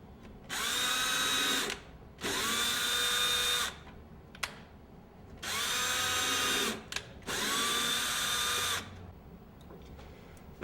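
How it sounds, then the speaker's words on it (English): A power drill drives a steel screw into the holes of door hardware to tap the threads, whining in four separate bursts of a couple of seconds each with short pauses between them. "I run the same size steel screw into the holes to tap it out."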